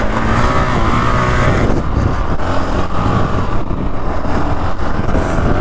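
A 2019 Honda CRF450L dual-sport motorcycle being ridden hard, its engine a loud, continuous close roar with rising and falling revs and wind rush, no speech over it.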